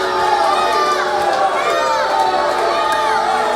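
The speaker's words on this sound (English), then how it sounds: "Tony Gunn now coming alive in this crowd, cheering on the Arkansas Roughneck" Wrestling arena crowd cheering and shouting for a wrestler during a live pro wrestling TV match, a dense, steady roar of many voices with excited yells rising throughout.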